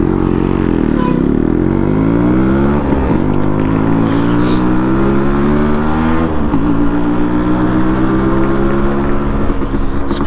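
A Yamaha RX 100 two-stroke motorcycle running steadily on a ride, its engine loud and close throughout with rising and falling revs as the rider accelerates and shifts.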